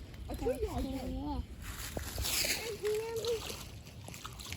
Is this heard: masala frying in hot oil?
no